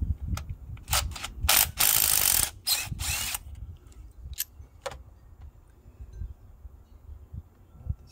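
Ratchet clicking in short bursts while loosening a spark plug on a 2004 Honda CR-V, close and sharp, with a longer rapid run near the start, then scattered single clicks and faint handling noise.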